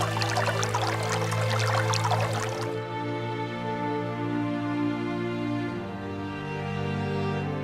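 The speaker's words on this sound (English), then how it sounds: "The creeks in Bratchana Gorge still had considerable water." Steady rushing of creek water in Bratchana Gorge in the Flinders Ranges, a continuous close wash that is bright and full for the first few seconds, then softer and duller but still flowing.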